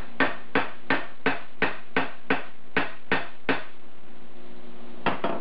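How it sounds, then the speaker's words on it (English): A hammer peens a small metal slug wider on a hard surface, giving ten quick, bright metallic taps in a steady rhythm, a pause, then two more strikes, close and clear. "I just need to peen it a bit wider."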